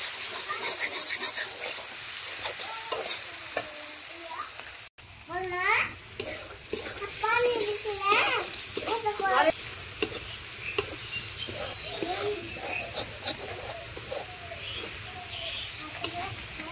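Onions frying in oil in a pan while being stirred, a steady sizzle with scraping stir strokes, and a voice talking over the middle stretch with bird-like chirps.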